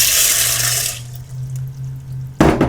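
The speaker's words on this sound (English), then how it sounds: "But in the pressure cooker, we're going to use 1 cup of water." Water is poured into a pressure cooker for about a second in a bright, rushing stream. It then cuts off, leaving a low hum, and a short splash follows near the end.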